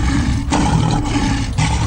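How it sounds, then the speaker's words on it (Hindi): Lions roar loudly and close in a Gujarat forest, deep rumbling bursts filling the clip with brief breaks between them and no talk. "इनकी दहाड़ से पूरा जंगल गूंजता है।"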